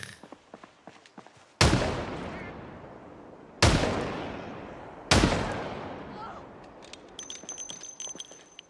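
Three loud, sharp gunshots ring out in a Skyrim game stream, spaced about two seconds apart, each with a long decaying tail, over faint background clicks and murmurs.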